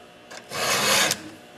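A hand file rasps across a chainsaw tooth in one steady, close stroke of about half a second, harsh and gritty, with no voices.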